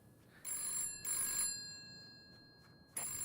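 A telephone rings in the video game Bro u Survived, in short, bright repeated bursts separated by brief gaps, fairly faint and with no talking over it.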